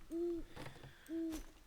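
An owl gives two low, steady hoots about a second apart. Each is faint and distant against quiet night ambience.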